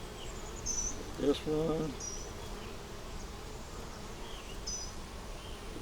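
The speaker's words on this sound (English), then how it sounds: "Now that swarm was big enough to fill this box up" Honey bees from a big swarm hum faintly and continuously in the background, with a thin buzz that rises and falls. A brief voice cuts in near the start.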